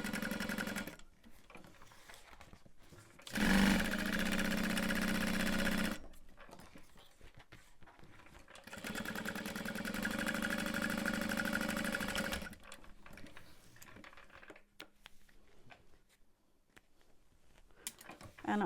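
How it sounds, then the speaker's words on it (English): Sewing machine stitching a seam on a tote bag at about 3/8 inch allowance, running in steady bursts of several seconds separated by pauses, close and fairly loud. "I'll flip this around and move my exterior out of the way to sew that shut."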